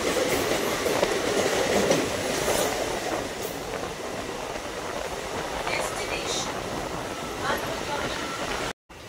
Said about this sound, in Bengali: এটা বর্ধমান হাওড়া লোকাল।